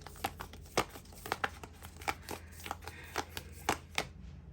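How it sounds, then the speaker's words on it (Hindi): Tarot cards being shuffled and drawn in a reading, with close, soft papery riffles and snaps at an uneven, steady pace, and no one talking. "ये 4 कार्ड्स मैंने यूनिवर्स की तरफ से निकाले हैं"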